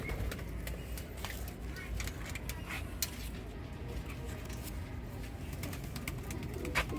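Pigeons on a rooftop coo softly and repeatedly amid a constant low rumbling background, with occasional sharp taps and wing sounds nearby.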